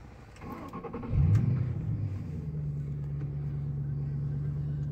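A 2005 Ford Mustang GT at an auto auction cranks and fires up with a loud surge, then settles into a steady, low, rumbling idle that runs close by and alone to the end.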